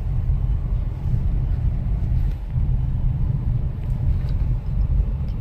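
A Renault Kiger in second gear climbs a hill in eco mode without the accelerator, giving a deep, labouring engine rumble that stays close and steady with slight dips.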